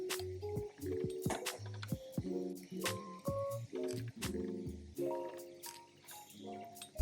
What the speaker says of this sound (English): The milk started to overboil, so we took it off the heat.